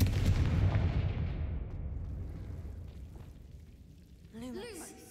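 A Confringo fire spell blast in Hogwarts Legacy booms loudly at the start, then rumbles and fades away over several seconds, ending with a short warbling magical chime.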